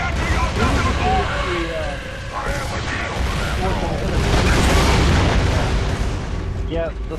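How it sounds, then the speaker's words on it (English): Mortar explosions in Gears of War 2 thud and boom continuously amid heavy game combat noise, with voices talking over the din. "Mortars!"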